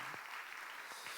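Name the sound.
congregation applause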